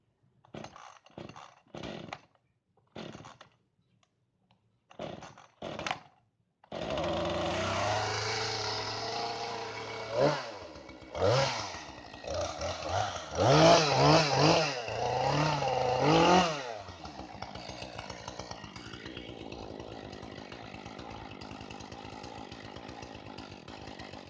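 A petrol chainsaw brought out after a season in storage: a few short pull-cord tugs, then the engine catches and runs loud and close, revving in uneven bursts before settling to a lower, rougher idle.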